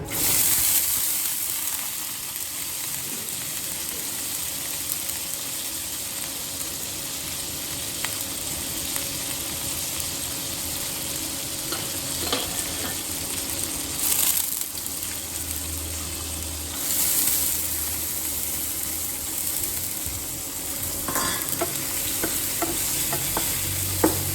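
Soaked urad dal (biulir dal) goes into a pan for a bottle gourd dal and is stirred, giving a continuous soft sizzle with scraping and stirring strokes throughout and a few louder clatters.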